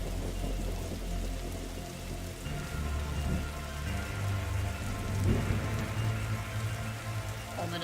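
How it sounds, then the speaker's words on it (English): Steady rain falls in The Darkside Detective, a soft continuous patter on surfaces with faint low rumbles beneath, moderately quiet and unbroken throughout. "And it's raining again."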